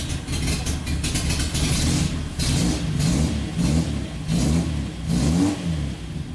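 A Z car's engine revs repeatedly through a newly fitted, throaty but not overly loud exhaust, rising and falling in several bursts, close by and fairly loud.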